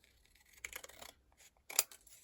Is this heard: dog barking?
no